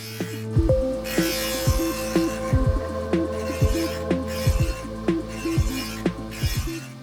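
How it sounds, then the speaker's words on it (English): A knife blade is ground on a grinding wheel mounted on a table saw, with a steady motor hum and a series of harsh, rhythmic grinding passes repeating every second or so, close and loud with no talk. "So I figured I could improve that with a finer diamond plate to dress the wheel, and then do a few more grinding passes"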